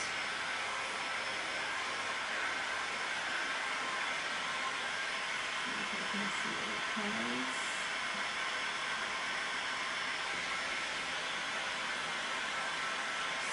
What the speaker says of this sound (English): Get that dried quickly. I use my heat gun for that.